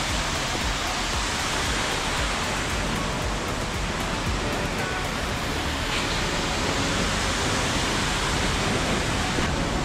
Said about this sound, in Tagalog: Ayun po yung Hinulugan Taktak, oh. Yung waterfall.